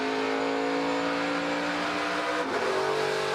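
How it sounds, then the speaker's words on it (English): A NASCAR Camping World Truck Series Toyota race truck engine drones loudly at high revs, then drops pitch sharply as it downshifts, continuing near and strong. "You hear him downshifting in that 18 Toyota."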